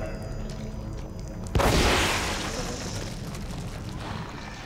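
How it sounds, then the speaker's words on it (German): A Magnum revolver fires once in The Evil Within, a sudden loud boom partway through that decays slowly into a rumbling ambience. "Einen Schuss habe ich für dich."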